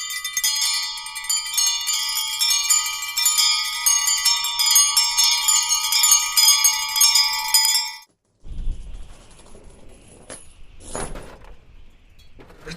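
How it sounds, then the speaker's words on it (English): In a Christmas Carol radio drama, a bright, sustained ringing of bell-like metallic tones fills the first part, then cuts off, followed by quieter scattered clinks and a couple of sharp jingling hits. "As he observed the bell, it began to swing."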